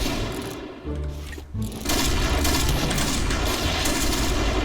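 Video-game gunfire in Point Blank, loud continuous bursts of rapid shots filling most of the clip after a brief dip, with no talking.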